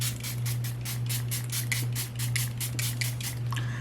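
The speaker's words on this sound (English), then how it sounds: "One last spray with the Fenty Makeup Extender Spray." Fenty Makeup Extender setting spray releases a rapid series of short, even hissing puffs, close to the mic, over a steady low electrical hum.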